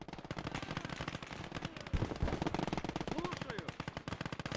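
Sniper shots and bursts of rapid gunfire in the WWII strategy game Gates of Hell: Ostfront, a steady rattle of machine guns under a few louder close reports, with battle noise filling the background.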